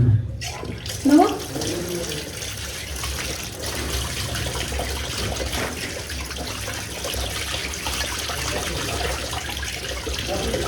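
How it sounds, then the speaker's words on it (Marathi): Running water pours steadily over fish being washed before frying, a continuous, close splashing rush that lasts throughout with a few louder handling noises near the start and a voice faintly present beneath. "चला आपण हे स्वच्छ धुवून घेऊ."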